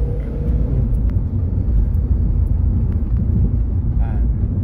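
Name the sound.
Suzuki car engine being revved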